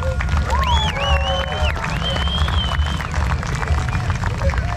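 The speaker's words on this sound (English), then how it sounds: "Give a round of, of applause for Rolly White." An outdoor crowd at a desert dune cleanup gathering breaks into sustained applause mixed with cheering and a few whistles, a steady, dense wash of clapping with some voices in the crowd.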